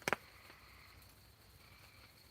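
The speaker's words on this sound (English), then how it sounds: "Hear the crickets and the frogs." Crickets at night by a hammock campsite in a wet area make a faint, steady high chirring far off, after a brief sharp knock at the start, with no voices.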